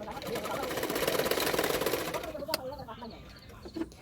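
A home sewing machine runs a steady, fast stitching burr along the edge of a long frock's fabric, loud and continuous for about two seconds before slowing and fading, with faint handling clicks afterward.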